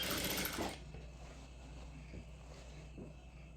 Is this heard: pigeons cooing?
no